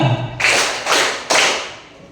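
A class of standing students claps in unison three times during a classroom ice-breaker, three sharp, loud, evenly spaced group claps, each decaying quickly, with no talking over them.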